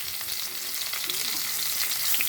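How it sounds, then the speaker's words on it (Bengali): Koi fish fries in hot oil with lemon juice close by, giving a steady, dense sizzle that holds even and unbroken throughout, with no voices. "আজ আমি কই মাছ ভাজি করছি।"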